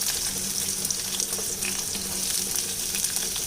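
Chopped big onions hit hot oil in a pan while cooking tomato kurma, giving a steady close sizzle and crackle of frying with a few small stirring knocks.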